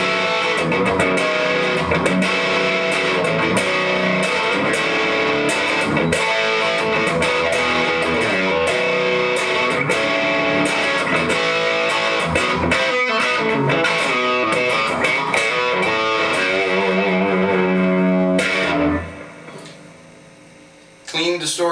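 Distorted electric guitar on the bridge pickup through an amp's dirty channel plays a loud, continuous riff with gritty bite and sustained chords, cutting off briefly near the end before resuming.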